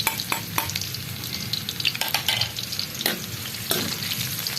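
Onions fry in a pan for a Filipino sautéed vegetable dish, sizzling steadily while a utensil stirs and scrapes in several clear strokes, close up with no talking.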